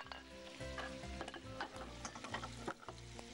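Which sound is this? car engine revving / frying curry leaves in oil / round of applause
frying curry leaves in oil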